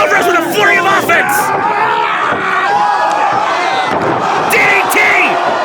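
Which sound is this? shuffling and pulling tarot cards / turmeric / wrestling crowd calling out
wrestling crowd calling out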